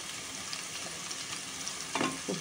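Onions cook with salt in a pan, giving a soft, steady sizzle. A couple of brief stirring scrapes come near the end, with no talk.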